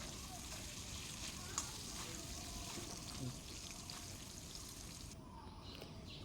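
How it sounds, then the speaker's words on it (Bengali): Potato pieces fry in hot oil with salt and turmeric, giving a steady, faint, continuous sizzle with no clear breaks over several seconds. "এখন আলুটা ভেজে নিচ্ছি।"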